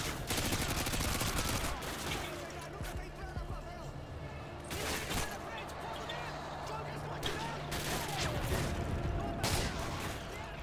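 Dense bursts of rapid automatic gunfire from the Call of Duty MW2 game, loud and near, with repeated volleys and a steady underlying drone; someone talks over the action.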